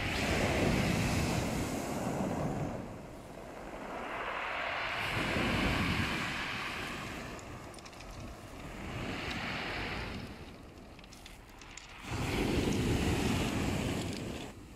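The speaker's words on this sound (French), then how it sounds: "le bruit des galets qui glissent avec les vagues, de Dobby qui marche sur les galets" Waves surge up a pebble beach and drag back down, the stones rattling and hissing in long swells that rise and fade about every few seconds, with some wind buffeting the microphone.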